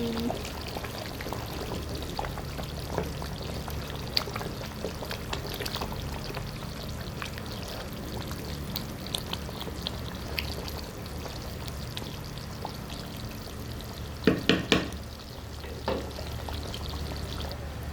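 Continuous bubbling and sizzling from a pot of chicken stew, steady and close, with a few sharp clinks near the end.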